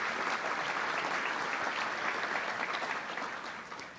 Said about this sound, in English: How about a round of applause for them and helping put this together?